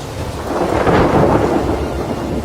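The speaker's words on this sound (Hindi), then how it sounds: "बरसात आ चुकी है।" Thunder rumbles through a heavy downpour during a storm over the Kakadu wilderness, a loud continuous wash of rain with a deep swelling roll of thunder peaking midway.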